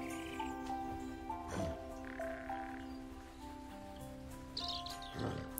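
A large bird croaks and calls in the puzzle platformer Toki Tori 2+, a few rough squawks rising over steady tonal game music and ambient chirps.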